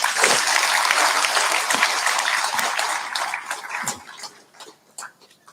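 Audience applause for saints in red and saffron robes at a spiritual gathering: dense, sustained clapping from a crowd for about four seconds, then thinning into scattered claps as it dies away.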